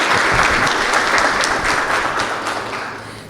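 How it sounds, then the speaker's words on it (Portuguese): An audience at a launch event in Brazil breaks into applause, a full, even patter of clapping that stays strong and then gradually tapers off toward the end. "uma salva de palmas para todos nós"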